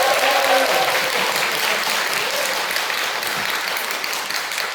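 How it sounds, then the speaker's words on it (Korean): A congregation at a Catholic charismatic renewal gathering in a parish church claps warmly together; the applause is full and sustained, fading slightly toward the end. "그래서 우리 시모님에서 박수 한번 부탁드립니다."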